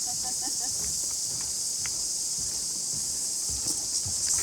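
Loud, continuous buzzing of cicadas rings through North Island New Zealand woodland near a swing bridge without pause, while soft scuffing footsteps and light movement sound close by.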